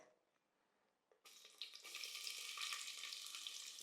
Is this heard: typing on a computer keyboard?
no